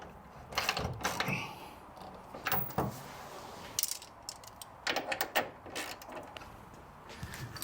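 Bolts on a big block Chevy being snugged down in a jet boat, with quick bursts of ratchet clicks and metallic tool clatter in separate spurts, close and fairly quiet, no talking.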